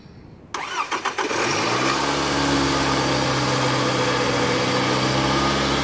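A 2010 Scion xB with a fully charged battery cranks briefly with a few quick starter pulses, then the engine catches and settles into a steady, loud idle hum.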